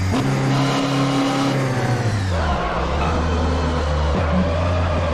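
A Fiat Uno engine in the Assetto Corsa racing game, droning steadily and loud, its pitch dropping and rising as the car brakes and accelerates through a corner.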